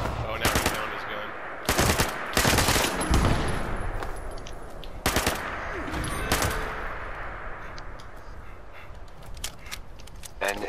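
Bursts of automatic gunfire from the video game Nuclear Winter, with several short rapid volleys and single shots spread across the span, fairly loud against quieter background game noise.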